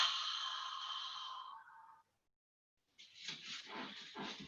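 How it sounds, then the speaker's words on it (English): A slow exhale through the mouth during a full body stretch in a mat Pilates session, a soft airy breath lasting about two seconds, then a pause and another breathy release, close and quiet. "taking a full body stretch with a big breath in and releasing the breath out"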